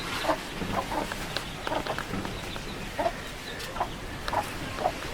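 Hens cluck in short bursts around a hen house, soft calls scattered every second or so over a steady low background of farmyard noise.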